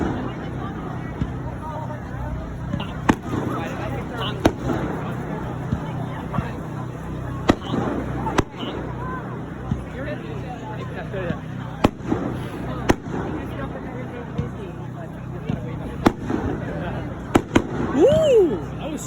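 Fireworks at a high school pep rally burst outdoors in a rapid series of sharp cracks and booms over a constant crowd murmur, with a rising whistle near the end.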